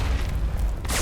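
A grenade blast in the video game Alpha Protocol, a dense, loud boom with heavy low rumble that holds for about a second and ends in a brighter burst.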